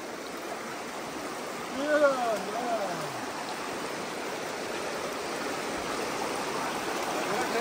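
Flowing water of the Kurram river in Pakistan, a broad steady rushing wash heard close by. A brief whistle-like tonal sound rises over it near the start, then the flow continues alone.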